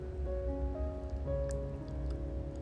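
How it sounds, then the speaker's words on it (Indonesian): Light drizzling rain falls at night in a very quiet setting, a faint, steady patter with a low hum underneath and no voices. "situasinya sangat sunyi diikuti hujan gerimis"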